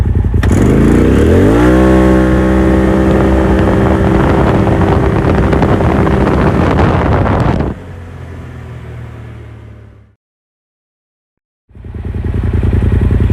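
A 2021 Polaris RZR XP Turbo UTV with a Trinity aftermarket exhaust revs hard and climbs steadily in pitch as it accelerates from 0 to 60, then cuts off abruptly, with silence before it roars back.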